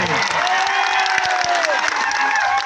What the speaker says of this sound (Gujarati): આનંદભાઈ પટેલ સાહેબ માટે જોરદાર તાળીઓ પણ લઈએ